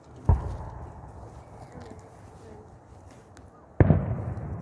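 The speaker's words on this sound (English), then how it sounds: "There's some neighbors are launching fireworks too." Fireworks launched by neighbors give two sharp, loud bangs about three and a half seconds apart, with a low rumbling background in between.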